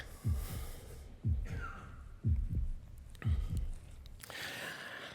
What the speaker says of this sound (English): That's the heartbeat.